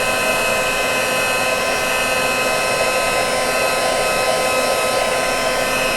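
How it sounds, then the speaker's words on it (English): Heat gun blowing hot air onto paint for a white wash finish, a loud, unbroken rushing whoosh with a steady whine, close up and alone. "I'm moving this heat tool back and forth around the area that I want"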